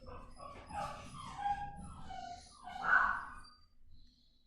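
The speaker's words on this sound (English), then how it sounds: "Apologize for that, my dog barked." A pet dog at home gives a few soft barks and whimpering yips, muffled and moderately distant in an otherwise quiet room.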